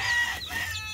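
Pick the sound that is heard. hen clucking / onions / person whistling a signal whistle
hen clucking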